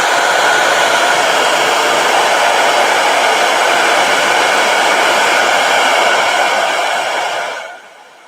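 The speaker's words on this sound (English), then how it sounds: "let me hit this with a blow dryer." A blow dryer blasts a loud, steady rushing hiss close to the microphone for several seconds, then winds down and cuts off near the end, with no speech.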